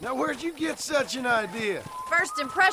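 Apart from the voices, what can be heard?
No distinct noise like a dog, phone or traffic.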